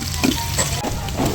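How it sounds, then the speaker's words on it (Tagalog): Garlic and onion sizzle loudly in oil in a pan, a steady close frying hiss with a few scraping stirs, no voices. "Pag okay na yung bawang guys, hulog yun na yung sibuyas. Konting gisa-gisa lang."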